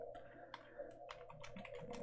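Quiet, close typing on a computer keyboard in a ham radio CW setup, a quick run of light key clicks under a faint steady hum.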